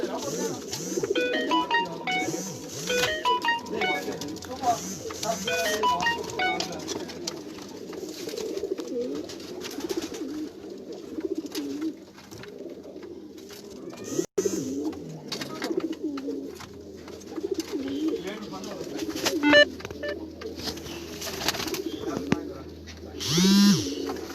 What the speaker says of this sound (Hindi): और ये सफ़ेद लक्के कबूतर हैं।